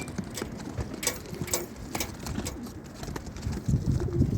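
Pigeons coo and flutter close by, a busy stretch of soft low calls with occasional wingbeats and scuffling, no talk.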